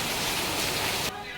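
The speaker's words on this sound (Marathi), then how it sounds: "आज बाप्पांचं विसर्जन आहे आणि खूप जोरात पाऊस पडतोय" Heavy rain pours during a Ganesh immersion, a dense broadband roar of falling water that cuts off sharply near the end, leaving quieter rain behind.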